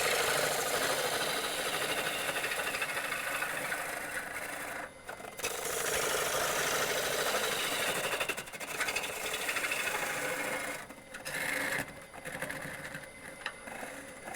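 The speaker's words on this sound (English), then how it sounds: "how I'm swinging the handles to create a cut that sweeps down the side of the bowl and into the bottom" A gouge roughs out a wooden bowl on a woodturning lathe with a steady, dense hissing whir of cutting. There are several brief pauses or dips as the tool lifts off the wood, and the sound is moderately quiet.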